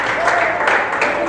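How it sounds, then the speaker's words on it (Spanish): Church congregation applauding during a service, a brief burst of clapping mixed with voices and cheering. "aplauda a Dios con alegría"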